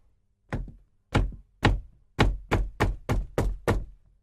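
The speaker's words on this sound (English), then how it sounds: "They hear knocks at the door." Heavy wooden knocks on a castle door, starting with three spaced, deliberate thuds and then speeding into a rapid run of six closely spaced blows, each one loud and close with a short decay into silence.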